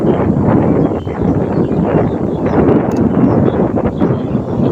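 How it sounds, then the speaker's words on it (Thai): Cold wind blows steadily outdoors on a rural farm plot, a loud continuous broadband rush buffeting the microphone for the whole stretch with no voices. "ลมหนาววันนี้เป็นอากาศเย็นค่ะ"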